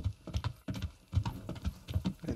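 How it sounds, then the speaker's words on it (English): Rhythmic horse hoof clip-clops in a quick steady gait, close and moderately loud, with no talking, in the video game Kingdom Come: Deliverance. "And the horse is found here in Užice."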